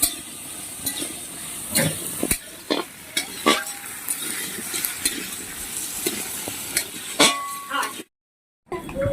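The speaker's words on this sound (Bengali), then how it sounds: "আলুটা এখানে ভাজা ভাজা হয়ে এসেছে" Potatoes fry in a pan, a continuous sizzle broken by repeated scraping and clacking as a spatula stirs them, close by and fairly loud, with a short silent gap near the end.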